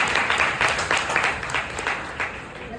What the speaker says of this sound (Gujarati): તાળીઓથી આપણે એનું સ્વાગત કરીએ